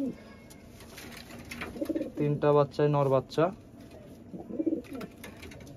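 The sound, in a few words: pigeons cooing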